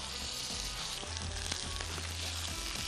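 Steak searing over high heat in an oiled pan, a continuous close sizzle with fine crackling and a low hum underneath, steady and unbroken, without voices.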